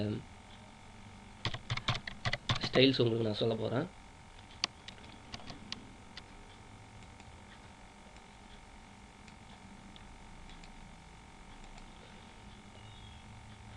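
Rapid typing on a computer keyboard during a Photoshop tutorial, a short flurry of close, crisp key clicks lasting a couple of seconds, with someone speaking quietly at the start and a few stray clicks afterward.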